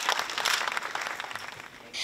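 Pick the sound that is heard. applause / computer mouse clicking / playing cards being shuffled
applause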